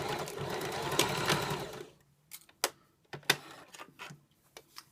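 A sewing machine runs steadily while stitching a thin-fabric shirt collar, a continuous buzzing run that stops partway, then a handful of sharp clicks and small handling knocks follow in near silence.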